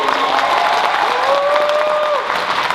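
Loud audience applause and cheering at the Kumoricon 2021 opening ceremonies, dense clapping throughout with whoops and sustained vocal cheers rising over it.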